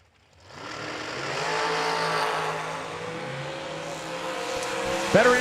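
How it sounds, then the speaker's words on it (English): Michigan-based dragster launching and screaming down a drag strip at a New Year Nationals race, a loud sustained engine roar with a rising whine, building quickly and holding steady before a sharp thump near the end. "482 the dial-in for Preston's Michigan-based dragster left side."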